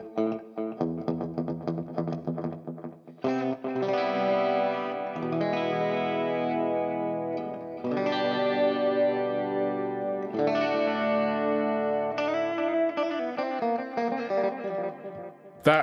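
Clean electric guitar notes ringing through an Irish-style delay on an ML Sound Lab Amped Oracle, each phrase repeating in echoes that overlap into a sustained, shimmering wash, played alone and fairly loud.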